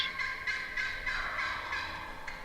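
Several wild turkey gobblers calling close by, repeated rattling gobbles overlapping in loose bursts at a steady loud level.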